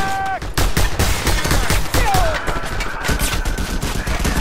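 Loud gunfire in the video game Just Cause 2 erupts in rapid bursts of automatic shots, close and punchy, layered with quick repeated cracks and brief tonal game effects throughout.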